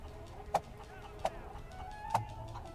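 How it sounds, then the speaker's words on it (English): Chicken in a video game giving three short, sharp clucks spaced apart over a quiet background hum. "look at this beautiful chicken."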